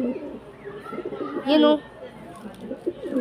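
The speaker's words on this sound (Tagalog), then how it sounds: "ito nga pala yung mga kalapati niya, mga kalapangit" Pigeons coo in short throaty bursts close by, with a louder bird call in the middle, mixed in with a person talking.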